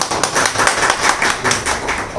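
An audience at a mushaira poetry gathering applauds with steady, dense clapping that holds for the whole stretch, fairly close and lively.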